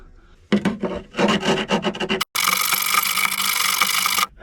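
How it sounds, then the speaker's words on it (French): A hand file rasps across aluminium on a boat's autopilot installation, first in quick short strokes, then one long continuous scrape, close and loud. "Alors je vais limer le métal de l'aluminium."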